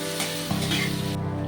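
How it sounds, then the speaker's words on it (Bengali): Chopped onions hit hot oil in a pan and set off a loud, steady sizzle that continues evenly, close up and free of talk. "এবার আমি কুচানো পেঁয়াজগুলো এর মধ্যে দিয়ে দেবো।"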